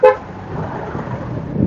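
A short car horn toot sounds near the start, amid steady low roadway rumble of heavy traffic with trucks on the busy C5 road, the hum continuing alone afterward.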